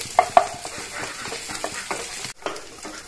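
Onions frying in a pan for an egg, potato and soybean curry: a continuous sizzle broken by scraping stir strokes and a few sharp clicks, up close.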